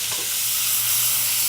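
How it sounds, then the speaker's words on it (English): A pan of fish piccata hisses steadily as white wine is poured in to deglaze it, a loud continuous close-up sizzle with no talking. "I'll take just a little bit of white wine, deglaze in the pan"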